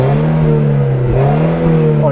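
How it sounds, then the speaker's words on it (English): A 1999 Toyota Altezza RS200 Z Edition with a 2.0L engine revs loudly and close by, its steady idle swelling into a couple of quick revs, the last one climbing sharply at the end. "Couple of revs."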